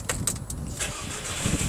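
The headlight washer on a VW Golf 1.8 GTi gives a harsh, grating mechanical noise in short rough bursts over a low background engine hum, close by.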